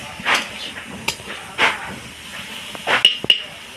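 Grated pointed gourd frying lightly in a pan for kofta, giving a soft hissing sizzle with a few louder bursts and clinks of utensils, no talk.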